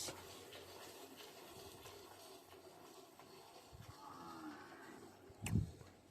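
Quiet outdoor ambience, then a single low moo from a buffalo near the end, brief and fairly close.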